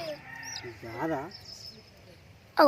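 Nearby chickens cluck and squawk in short warbling calls, with a sharp louder cluck at the end.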